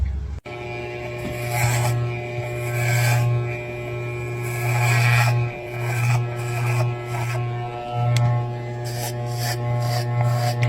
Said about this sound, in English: we're going to shave our heads for Alopecia Awareness Month